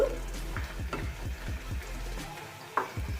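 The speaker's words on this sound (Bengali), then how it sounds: "ধনে পাতা বাটাটা দিয়ে আমি ভালো করে আবারও মিশিয়ে দিচ্ছি সব শুদ্ধ" Flat beans being stirred with coriander paste in a pan, giving repeated soft scraping and stirring strokes at a steady rhythm with a faint sizzle beneath, close and moderately loud, without speech.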